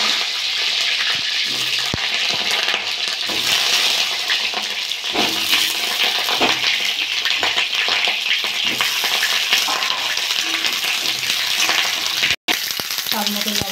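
Pointed gourd (potol) frying in hot mustard oil in a heated pan, a steady dense sizzle that carries on without a break for the whole stretch, loud and close. A short silent gap falls near the end.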